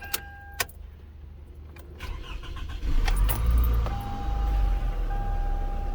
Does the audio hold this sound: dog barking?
no